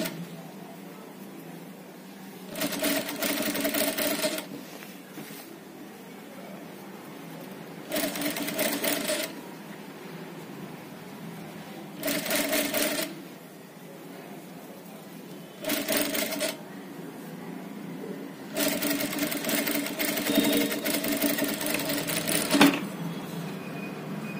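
Bursts of sewing machine stitching on a polyester garment sleeve, five runs of a few seconds each separated by short pauses, close and steady, with the last run longer; no talking.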